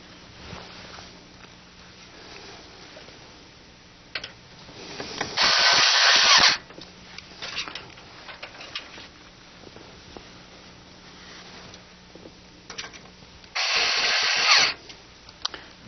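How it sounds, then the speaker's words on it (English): A power drill drives the screws holding a power supply into an ATX PC case, two short buzzing whirs several seconds apart, with clicks and handling noise between them. "you simply get the 4 screws that secure the power supply to the case and screw them in"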